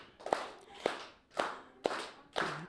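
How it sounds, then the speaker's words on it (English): Audience performing a rhythmic tortilla fry bread clap at a First Friday gathering: five loud, evenly spaced bursts of clapping, each a sharp slap followed by a brief rubbing swish, with no talk. "What we do is kind of like a tortilla fry bread clap, which goes something like this"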